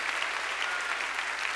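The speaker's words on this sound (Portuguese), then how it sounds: "Pode aplaudir o Senhor." A Baptist congregation applauds during a Sunday morning church service, an even, continuous roar of many people clapping, heard from a distance and fairly soft.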